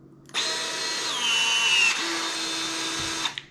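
A battery-powered PEX crimping tool presses a fitting onto plumbing pipe with a steady motor whine for about three seconds, its pitch changing partway as the jaws close, then it stops abruptly.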